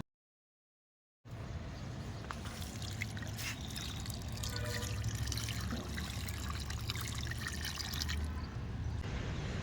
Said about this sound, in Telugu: ఇందులో కొన్ని వాటర్ పోద్దాం